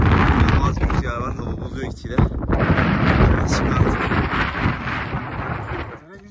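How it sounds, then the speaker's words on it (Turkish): Strong wind roars across the microphone in loud, broad gusts on a mountain in Turkey's Aladağlar range, buffeting continuously for several seconds with a voice partly audible underneath. "İnanılmaz bir rüzgar var."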